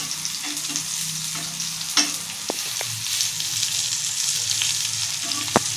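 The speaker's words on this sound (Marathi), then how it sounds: "आपण पलटी करून घेऊया मांदेली" Mandeli fish frying in a pan and being flipped, a steady close sizzle of hot oil with a few scraping and tapping clicks as the fish is turned.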